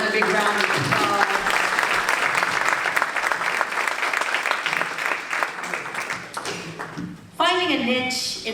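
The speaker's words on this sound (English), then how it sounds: "Give her another big round of applause." Sustained, loud applause from an audience honoring a woman at a service anniversary celebration, steady dense clapping that thins near the end before a voice begins speaking over it.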